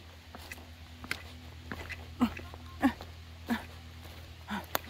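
Dogs barking at a distance, several short faint barks spaced a second or so apart over a low steady background hum.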